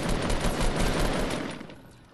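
Dense, sustained burst of gunfire from the video game Fortnite during a duo match, loud and continuous rapid shots that gradually fade toward the end, with no talk over it.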